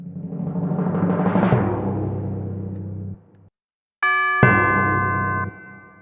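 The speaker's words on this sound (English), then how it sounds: "I have a timpani and a chime, known famously in the cinema industry as the epic instruments" Timpani and chime in a remix: a swelling rolled timpani that cuts off, a short silence, then a bright chime strike ringing over renewed low drum tone.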